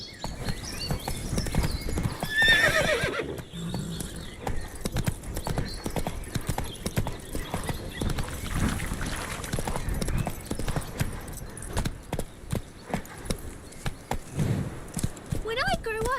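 Hoofbeats of Geralt's horse Roach galloping in The Witcher 3: Wild Hunt, a steady, close clip-clop rhythm running the whole time under game music and effects, with a brief whinny and a voice speaking now and then.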